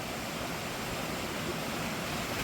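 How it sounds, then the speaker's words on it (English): A creek swollen after a storm beside a garden, giving a steady, dense rushing wash of water that holds the same level throughout, with no voices. "And look, after the storm, look at the creek beside us"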